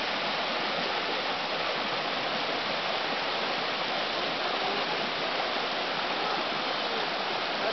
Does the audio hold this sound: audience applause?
no